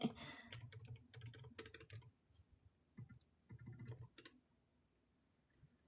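Keys on a computer keyboard clatter in quick bursts of close typing, with short pauses between runs of keystrokes, quiet overall.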